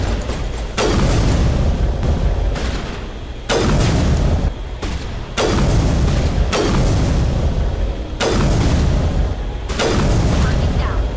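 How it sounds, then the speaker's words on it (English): Artillery barrage in the game Mass Effect, fired on Batarian enemies: repeated loud, booming blasts arrive in long rumbling waves separated by short gaps, with voices talking amid the barrage. "Release the barrage!"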